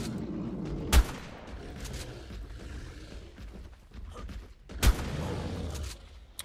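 Two sharp pump-action shotgun blasts in ARK Survival Evolved on the Ragnarok map, spaced a few seconds apart, each a loud close crack followed by a brief rumbling tail over a busy mechanical background.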